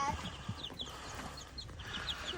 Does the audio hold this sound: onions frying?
no